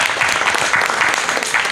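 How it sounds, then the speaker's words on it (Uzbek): An audience at a book lovers' club contest show claps in a continuous, even burst of applause that runs without pause from start to finish. "ming olqish deb qo'yamiz"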